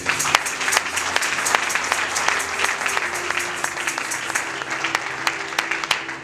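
A church congregation bursts into sustained applause during a service, with dense, steady clapping from many hands filling the room and a few sharper claps standing out, continuing without a break.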